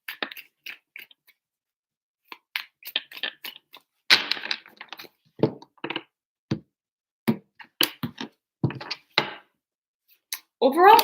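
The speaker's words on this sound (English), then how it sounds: "Three shuffles for Capricorn." Tarot cards shuffled by hand in short riffling bursts and taps, close and fairly quiet, with soft pauses between them.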